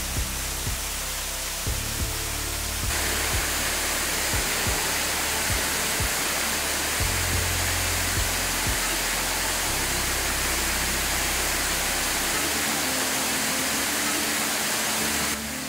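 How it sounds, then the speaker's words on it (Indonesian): Waterfall at Karmon, Biak, with clear rushing water pouring continuously in a dense, steady roar, close and loud with no voices. "Indahnya aliran air yang deras, jernih dan menenangkan dengan dikelilingi pepohonan yang asri menjadi alasan banyak orang menyukai air terjun."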